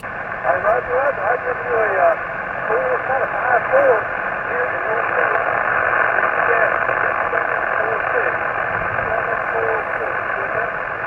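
A ham radio signal received while driving, a voice coming through heavy static and hiss, with warbling tones and a steady engine hum underneath, loud and continuous.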